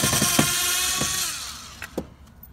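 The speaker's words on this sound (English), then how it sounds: "I'm going to take the 3 screws out that hold this in" A power drill backs drywall screws out of the plastic door panel around the speaker on a first-generation Honda Insight, giving a close, steady whir with sharp clicks, then a few isolated taps as it stops.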